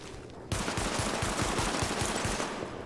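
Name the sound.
gunfire during weapon test in The Division video game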